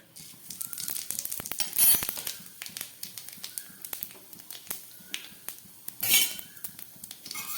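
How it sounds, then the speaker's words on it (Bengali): Bay leaf and panch phoron hitting hot oil, sharp crackling pops and spits over a soft sizzle with a couple of louder bursts, close and irregular, no talk. "এই তেলের মধ্যে আমি দিয়ে দিচ্ছি একটা তেজপাতা, আর দিয়ে দিচ্ছি কিছুটা পাঁচফোড়ন।"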